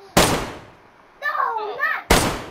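Two loud, sharp gunshots ring out in DayZ, one near the start and one near the end, with a short burst of excited voices between them.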